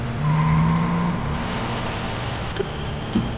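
A motorbike braked hard and skidding, a loud close tire squeal with engine noise that slides down in pitch and fades, with a couple of brief knocks after.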